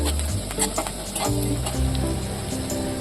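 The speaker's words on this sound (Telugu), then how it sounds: "రెండు ఎండుమిరపకాయలు వేయాలి కలిపేసి బాగా వేగాలి ఉల్లిపాయలో వేగి" Onions and dried red chilies frying in oil for a bitter gourd curry, a loud steady sizzle with stirring scrapes close up and no speech.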